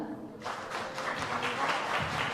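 Audience clapping at a regional recitation contest, starting abruptly after a brief quiet moment and continuing as a moderate, fairly faint patter.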